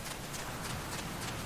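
Running footsteps in Metal Gear Solid: Peace Walker tap out a quick, even rhythm of soft thuds, quiet and steady across a short stretch with no talking.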